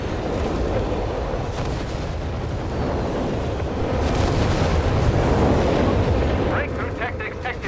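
Artillery barrage in Company of Heroes 3, a sustained roar of overlapping explosions and booms rumbling continuously, loud and dense, with game noise and a commentator talking over it.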